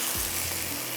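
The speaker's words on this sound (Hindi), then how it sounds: "अब थोड़ा सा इसको फ्राई करेंगे, इसके अंदर डाल देंगे कीमा" Boiled minced mutton sizzles and fries in a hot pan, a continuous loud hissing crackle with a faint stir near the start and no voices.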